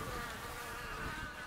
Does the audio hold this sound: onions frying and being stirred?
no